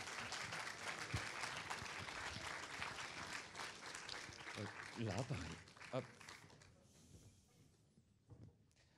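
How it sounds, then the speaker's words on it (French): Audience claps for jury members and the trophy creator at the Court Métrange 2013 closing ceremony, steady applause that thins out toward the end, with voices talking over it. "Sous vos applaudissements, bien sûr."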